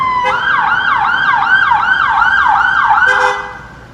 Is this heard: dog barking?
no